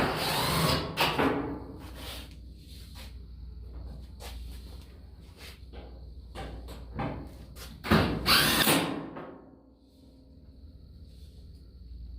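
A screw gun drives screws during a coupe-to-fastback car body conversion, with short whirring bursts spread through the clip and a longer, louder run near the end, separated by quiet workshop gaps.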